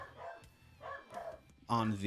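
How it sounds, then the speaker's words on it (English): A pet dog barks and yips repeatedly at home, sharp loud barks in short bursts, the last one closest and loudest, while someone talks over them. "Let me go get my dog to stop screaming his head off"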